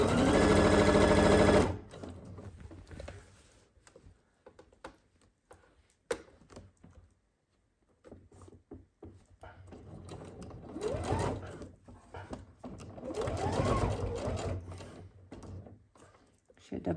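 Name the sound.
sewing machine sewing a zip onto a jacket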